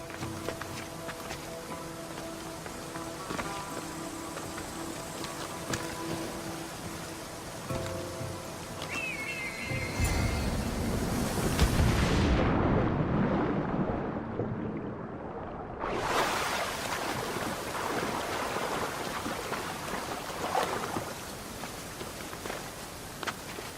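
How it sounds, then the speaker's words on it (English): Rushing water from a waterfall in the Assassin's Creed Odyssey video game, a steady broadband roar that swells louder midway as the character moves or dives toward it, with some faint footsteps early on. "This is the waterfall."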